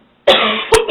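A woman coughs harshly twice in quick succession, loud and close, with no talking around it.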